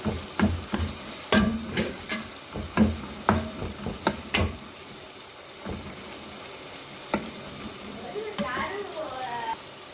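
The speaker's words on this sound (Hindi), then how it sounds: "इनको थोड़ा सा ऐसे मैश कर देंगे" Cooked tomatoes in a pan are mashed with a series of sharp, irregular clicks and taps of a utensil against the pan, loud at first then sparse, with faint sizzling and a voice speaking toward the end.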